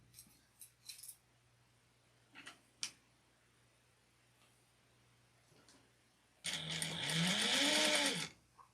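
A sewing machine top-stitches an apron in one loud, close, steady whirring run of about two seconds near the end, after a few light clicks and taps of fabric handling.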